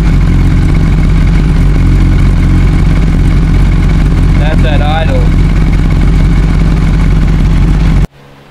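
A Honda CBR1000RR motorcycle engine idles loud and close, a steady low rumble with a brief voice over it before it suddenly cuts off; the bike has a weak stator and is not charging its battery.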